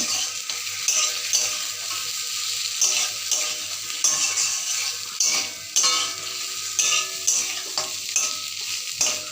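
Fried pointed gourd tossed into a sizzling spice masala in oil, loud continuous frying hiss broken by repeated scraping stirs and spatula knocks at an uneven rhythm.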